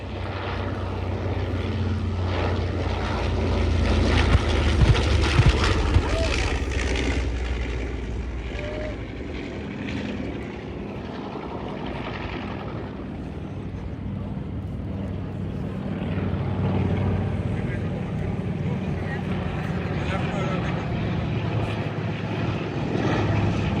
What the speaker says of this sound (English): our B-25s are now inbound